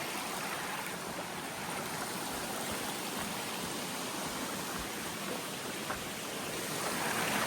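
A stream of water rushes over rocks on a muddy, rainy 20-mile trail hike, a steady broadband roar that holds constant throughout and swells slightly at the end, with no voices.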